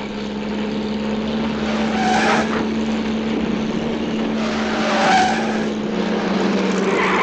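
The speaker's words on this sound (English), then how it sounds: "Fancy a washerwoman driving a car so well." A car driven by a washerwoman skids along, with a steady engine drone and two swelling bursts of tire squeal, fairly loud and close, no talking.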